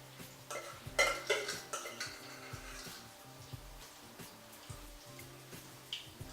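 Accra dough dropped into hot frying oil, giving soft irregular crackles and taps with a few louder plops, quiet and close, no voices.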